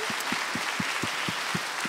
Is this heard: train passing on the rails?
no